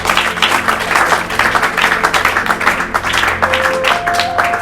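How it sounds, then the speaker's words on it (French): An audience applauds loudly and continuously, a dense wash of clapping close by, with a sustained musical tone underneath toward the end. "Est-ce que nous pouvons acclamer très fort?"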